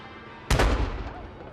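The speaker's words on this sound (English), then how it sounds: "worthy of a special peal of the bells of Westminster Abbey" A single sharp gun salute report for the monarch's Platinum Jubilee occasion near Westminster Abbey, loud and sudden after a quiet start, followed by a decaying echo; no bells are evident.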